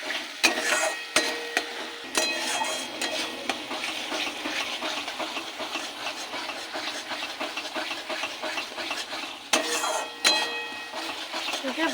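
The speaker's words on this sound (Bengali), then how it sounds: "দিয়ে এবার ভালো করে ভেজে নেব" Mashed flat-bean paste with salt, turmeric and sugar fries in oil, giving a steady, dense crackling sizzle with sharper scrapes of stirring near the start and again toward the end.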